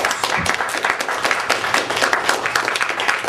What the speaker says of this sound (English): So let's give a round of applause to all these people.